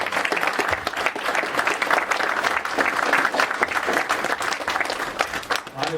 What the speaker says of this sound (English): Y'all help me give them a round of applause.